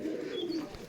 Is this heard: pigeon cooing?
yes